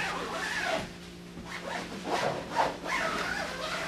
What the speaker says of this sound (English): zip it completely closed